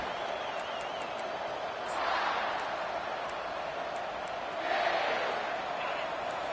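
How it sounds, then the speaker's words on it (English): A football stadium crowd roars during a game, a broad distant wash of cheering that swells twice in loud surges, with a commentator's voice running over it. "This crowd bringing the energy and noise early."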